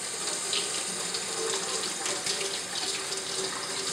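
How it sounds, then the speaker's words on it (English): Food is rinsed lightly under a running kitchen tap, a steady splashing gush of water against the sink. "So what I'm going to do is actually just rinse this off in a little bit of water."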